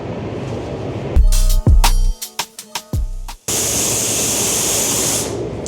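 Spray gun misting grey paint coats onto spray-out cards, a loud steady hiss that breaks into a few short stuttering bursts before resuming as a continuous close-up spray.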